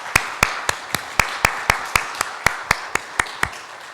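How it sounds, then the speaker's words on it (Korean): A church congregation claps together at a Sunday service, celebrating an elderly member's eightieth birthday; about fifteen sharp, evenly spaced claps ring out in steady unison rhythm over a faint room hum. "한번 박수를 한번 하겠습니다"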